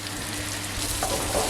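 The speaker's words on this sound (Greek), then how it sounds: "Και θα περιμένουμε τώρα να τηγανιστούν." Food frying in a pan for a traditional family recipe, a dense, steady crackling sizzle that fills the whole short stretch, close and fairly loud with no talking.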